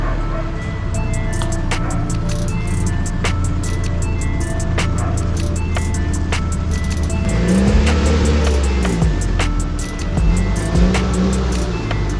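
Nissan 240SX car engine droning steadily while driving, close and continuous, with rising and falling engine tones and some clicks and knocks over the hum.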